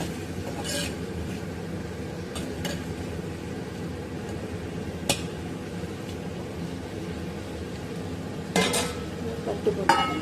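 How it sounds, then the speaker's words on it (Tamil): Mutton liver fry is stirred with oil in a pan: a low, quiet sizzle runs beneath occasional scraping and clinking of a spoon on metal, with a few brighter clatters toward the end. "ஆயில் விட்டு அப்படியே கிளறி விட்டுக்கோங்க."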